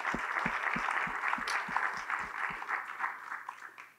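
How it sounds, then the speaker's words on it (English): An audience at a North Hempstead, New York supervisor candidate forum claps steadily, the applause slowly fading out, with a low rhythmic thumping underneath that stops partway through. "let's please offer applause to both candidates for their willingness to answer questions together on the same stage"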